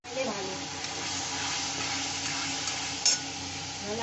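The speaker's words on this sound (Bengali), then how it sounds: "মশলাটা ভালো করে কষে নিচ্ছি" Spice paste fries in a pan with a dense, even sizzle and soft stirring scrapes, ending in one brief louder knock.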